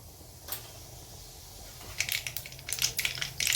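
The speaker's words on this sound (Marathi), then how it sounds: "तर मोहरी तडतडली" Mustard seeds and cumin hit hot oil in a kadhai on a gas stove while cooking kurdai bhaji. A soft sizzle builds into sharp, irregular crackles and pops that grow dense and close in the final second and a half.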